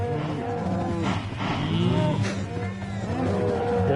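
Cows mooing in Minecraft Bedrock Edition, several overlapping low drawn-out moos close by, mixed with blocky game sounds and a brief swoosh.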